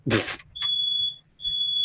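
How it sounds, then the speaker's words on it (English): A smoke alarm in a home sounds piercing, steady high beeps, with a louder burst of noise before the first tone; the beeps run on and off, loud and alone. "Oh, great, smoke alarm."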